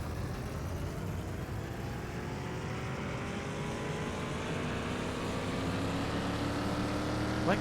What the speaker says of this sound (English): I like the sound of that engine.